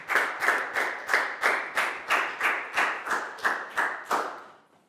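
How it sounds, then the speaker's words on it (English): A class of Year 4 students claps together in a classroom, a steady rhythmic run of about a dozen unison claps, close and fairly loud, ending abruptly. "Big round of applause for Prell, please, guys."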